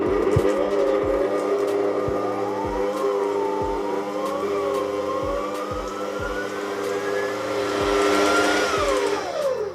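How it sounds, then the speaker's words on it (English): A stand mixer beats hot choux pastry dough with a steady mechanical whir, pitch drifting up and down slightly, and regular soft knocks as the beater turns in the bowl. "So I'll be beating this in my mixer till the temperature comes down"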